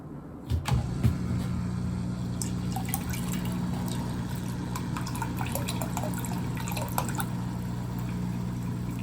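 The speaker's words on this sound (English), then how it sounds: "Power the pump on." A water-cooling pump in a PC build for an i9-14900KS pushes coolant through tubing, a steady low hum with dripping and trickling water and a few light clicks over it.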